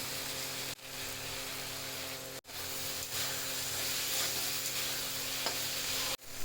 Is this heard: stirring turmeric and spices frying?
yes